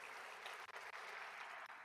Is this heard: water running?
no